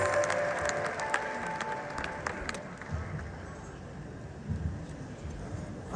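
Audience applause at a philharmonic award ceremony, a dense steady patter of clapping from a large crowd that carries through the whole stretch with a few louder swells.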